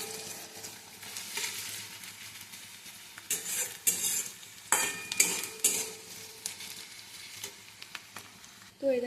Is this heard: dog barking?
no